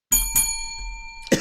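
Quiz game bell giving bright metallic dings, two quick strikes close together and a third after a pause, each ringing with clear sustained tones, no speech.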